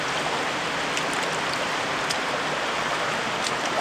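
Shallow river water flows at a campsite during heavy rain, giving a continuous, even rushing hiss with a few faint ticks and no talking.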